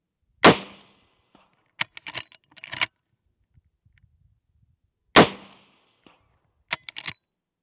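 Unsuppressed .45-70 rifle fired outdoors, two sharp loud reports several seconds apart, each followed by quieter metallic clicks and clacks of handling the action.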